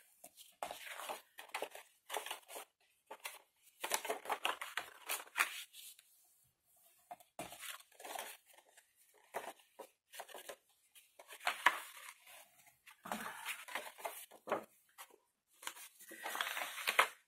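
Paper folds are creased with a flattening tool for a desk organiser, giving bursts of soft crinkling, rubbing and scraping strokes with short quiet gaps between them, close and faint.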